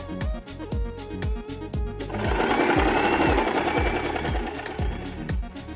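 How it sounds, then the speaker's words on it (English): A sewing machine running a regular straight stitch along folded fabric for a turban headband: a steady mechanical whir with rapid rhythmic needle clicks, swelling louder through the middle of the run, close up and with no talking. "With the right sides together, fold the fabric in half and sew here using regular stitch."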